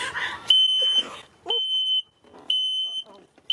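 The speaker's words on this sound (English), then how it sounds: "Below this drawer, you have your carbon monoxide alarm." A carbon monoxide alarm in an Airstream Interstate van sounds loud, close, piercing beeps in a regular on-off pattern, with voices and movement noise between the beeps.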